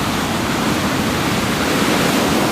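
Surf breaking on the beach at Anglet, a dense, continuous roar of churning water, loud and close with no distinct individual wave crashes.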